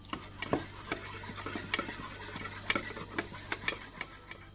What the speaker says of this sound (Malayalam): കുറച്ച് വെള്ളവും കൂടി വെച്ച് ലൂസാക്കി കൊടുക്കാം.